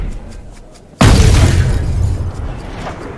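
A golf driver tee shot in the Rory McIlroy PGA Tour video game: one sudden loud whoosh and impact bursts in after a quiet lead-in, then broad rushing noise that slowly fades.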